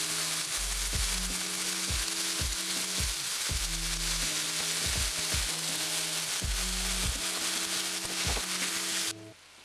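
Chicken sizzling in an oiled skillet after being flipped for butter chicken, a steady close frying hiss broken by repeated low knocks and taps of the pan, with no talking.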